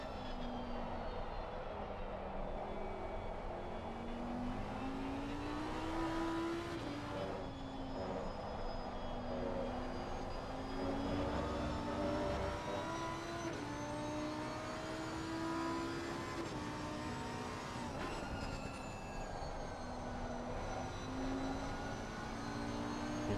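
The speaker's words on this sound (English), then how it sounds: "we'll stay on board with the Lamborghini for this lap" Onboard a Lamborghini race car lapping a still-wet circuit during the 24 Hours of Spa, a continuous loud engine drone with rising and falling pitch through gear changes and acceleration, steady wind and road roar beneath.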